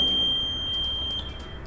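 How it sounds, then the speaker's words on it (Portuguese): A homemade Arduino laser alarm's buzzer sounds a loud, steady high-pitched electronic tone that holds throughout, shifting slightly in pitch near the end. "se você corta o alarme, ó, vou cortar aqui com a minha mão"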